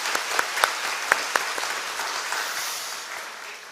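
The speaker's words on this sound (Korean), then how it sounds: "우리 미래에 현존하는 미래들을 위해서 박수 한번 합시다." A church congregation at a Sunday worship service claps together in a sustained, dense round of applause, with a few sharper claps standing out early on, before the clapping gradually tapers off.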